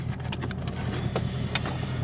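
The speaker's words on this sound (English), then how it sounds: "The car's running, so if you can hear the exhaust in the background" A low, steady exhaust rumble from a 2015-2018 Ford Mustang idling nearby, with faint clicks and rustles on top and no talking.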